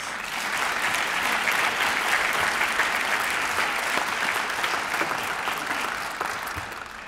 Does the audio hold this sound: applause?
yes